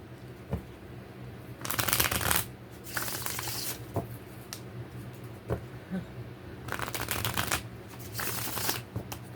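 Cards being riffle-shuffled in several quick bursts, crisp fluttering rips separated by short quiet pauses, close up.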